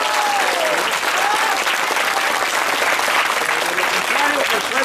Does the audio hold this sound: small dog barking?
no